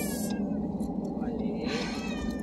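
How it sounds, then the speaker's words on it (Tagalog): A young pet cat cries with a couple of plaintive meows, close and fairly quiet, against a steady low background hum. "Iyak yung aming baby. Ang aming baby cat na Wally."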